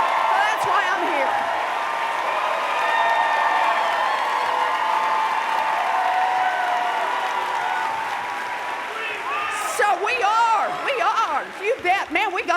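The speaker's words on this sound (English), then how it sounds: "we got a rowdy crowd here" A rowdy town hall crowd in Arlington applauds loudly and steadily with whoops and cheers, the clapping thinning toward the end as scattered shouts and voices break through.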